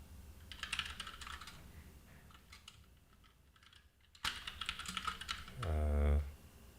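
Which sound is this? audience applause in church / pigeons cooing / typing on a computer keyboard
typing on a computer keyboard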